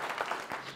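A short burst of group clapping from a village gathering honouring a woman, a brief patter of hands lasting under a second.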